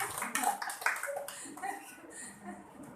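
An audience at a religious gathering claps for a woman named Mamta, a scattered burst of applause mixed with some chuckling and voices, fading down toward the end.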